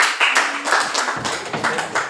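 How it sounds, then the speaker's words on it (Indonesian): Clapping from a small classroom group, a brief burst of scattered hand claps lasting about two seconds, fairly close and uneven in rhythm. "Tepuk tangan untuk kelompok 1"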